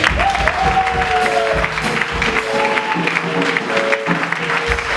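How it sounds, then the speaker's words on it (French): A church congregation breaks into applause and cheering, a dense burst of clapping that swells under sustained voices and then eases as the crowd continues calling out. "Est-ce qu'on peut acclamer le Seigneur?"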